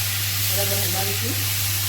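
Chopped tomatoes sizzle and fry in a hot pan while being stirred, a steady broadband hiss with a low constant hum beneath and faint speech in the background.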